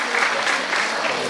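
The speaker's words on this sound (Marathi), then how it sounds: "जोरदार टाळ्या वाजवून आपल्या सदिच्छा त्यांच्यापर्यंत आपण पोहोचूया" A hall audience at the state-level inauguration ceremony of the 8th National Nutrition Month claps steadily, producing a dense, even wash of applause that carries on without a break.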